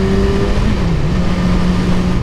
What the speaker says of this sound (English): This car is making us go slow.